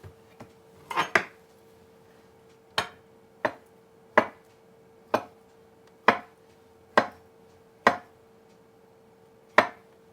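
A knife slices a peeled avocado on a cutting board, giving about ten sharp, close taps at uneven intervals with quiet gaps between them.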